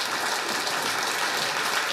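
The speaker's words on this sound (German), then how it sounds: "Applaus für Brady." A studio audience at a German late-night comedy show claps in a dense, even burst of applause, loud and sustained for the whole moment with no talking.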